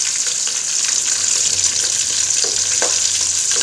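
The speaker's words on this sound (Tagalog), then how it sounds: "i-deep fry ko naman sa loob." Sliced pieces of quail or rice-field bird deep-fry in oil outdoors, giving a loud, steady bubbling sizzle with a bright hiss and scattered pops throughout, close up, with no talking.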